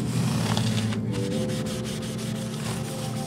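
A cloth rubbed back and forth across the frets of an Ibanez RG80F electric guitar, a steady close scratchy rubbing that continues without pause, with no voices.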